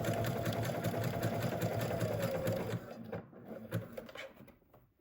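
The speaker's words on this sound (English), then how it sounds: "now head to the sewing machine. You're going to overlap this by about 1/2 inch and you're going to stitch these together." A sewing machine stitches together elastic ends overlapped by about half an inch for a three-piece skirt, running with a steady close whir for nearly three seconds before slowing and stopping with a few faint clicks.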